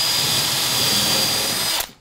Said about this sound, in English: with the drill fitted, go straight in